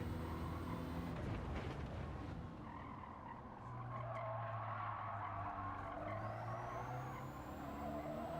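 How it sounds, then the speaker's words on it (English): A race car in Gran Turismo 7 at full throttle with traction control off, engine droning steadily under constant tire squeal and skidding, close and continuous with no talk. "That's full throttle with no traction control."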